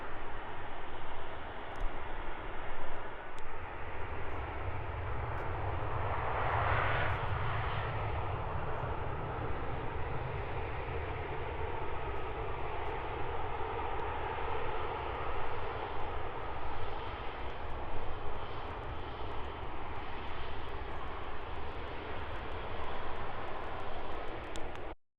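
An Airbus A380 and an Aer Lingus A320 at London Heathrow airport fill the air with a continuous, even jet roar, moderately distant and unbroken for the whole stretch.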